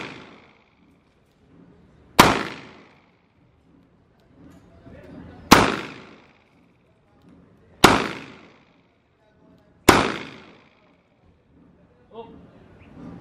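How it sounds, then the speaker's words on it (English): A .22 TCM or 9mm 1911 pistol fired at a shooting range: four sharp, loud single shots spaced roughly two to three seconds apart, each decaying quickly into near silence, with a faint fifth pop near the end. "I'm shooting on the right side of the target."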